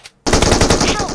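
Loud, continuous automatic gunfire from PUBG Mobile erupts after a brief quiet start, a dense rapid burst of shots that runs to the end without any talk.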